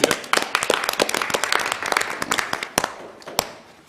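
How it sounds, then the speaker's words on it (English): A brief round of applause at a commissioners' meeting, a small group clapping close and brisk, then tapering off to a few last claps. "I just want to give you a round of applause for all the hard work you've done here"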